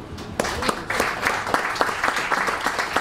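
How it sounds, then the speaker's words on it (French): An audience applauds after a talk, with moderately loud, fairly dense clapping in which individual sharp hand claps stand out steadily across the whole stretch. "on peut l'applaudir."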